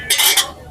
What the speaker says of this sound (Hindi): अब ये बनना शुरू हो गया हमारा कबाब। मक्खन में अच्छी तरह मेल्ट हो गया है और कबाब का कटाकट स्टार्ट है।